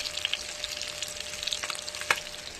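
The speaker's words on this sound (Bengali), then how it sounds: "এদিকে মাছ ভাজা হচ্ছে।" Soft-fleshed fish fries in a pan with a quiet, even sizzle and light crackles, close but faint, with a single sharper tap near the end and no speech.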